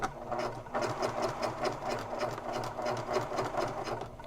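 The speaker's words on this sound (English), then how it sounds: "I'm going to sew about 1/4 inch from the edge" A sewing machine fitted with a Teflon foot stitches steadily through vinyl on a messenger bag, a fast continuous mechanical whir with rapid needle clatter, close and even throughout with no talk.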